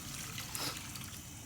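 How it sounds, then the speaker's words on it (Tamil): Water poured into frying masala with suvarotti (goat spleen) in a pan gives a brief, soft, faint sizzling trickle against steady kitchen background noise. "அந்த தண்ணியை இப்போ நான் இதோடு சேர்த்துக்கிறேன்"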